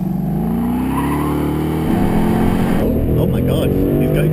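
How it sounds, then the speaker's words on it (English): A Ford Mustang starts a hot lap on a track, its engine droning and rising as it accelerates hard, with tire noise up close and people talking excitedly over it. "this is me about to do a hot lap in a Mustang"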